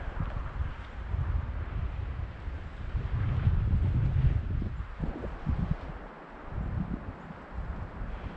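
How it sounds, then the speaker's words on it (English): Wind gusts across the microphone beside water while trout fishing, a continuous rumbling buffet that swells in the middle and briefly drops near the end. "they got this wind shear is giving me a hard time"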